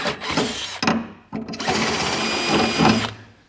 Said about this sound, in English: Give a little cleanup with the drill.